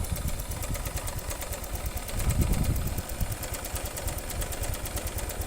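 A Honda Vario motor scooter with a blown fuse and silent fuel pump runs at a close, steady idle, a low, rapid thrum swelling briefly midway before settling back.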